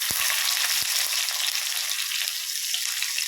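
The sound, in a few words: mustard seeds, fenugreek and chopped shallots frying in oil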